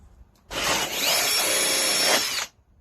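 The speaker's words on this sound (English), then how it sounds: "Get your drill ready and drill your hole." A power drill whirs steadily for about two seconds, a bright grinding buzz as it bores a hole through a dried gourd, then stops.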